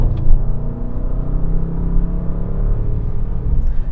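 A 2025 Bentley Bentayga S Black Edition SUV in sport mode drones under load with a steady low engine rumble, rising through the gears with subtle upshift changes, heard from inside the cabin without talk.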